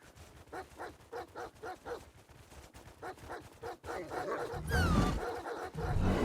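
A wolf from a pack in the survival video game Rust barks in a rhythmic series of repeated yelps, then gives way to louder rough growling and rumbling as the pack attacks, with no talking.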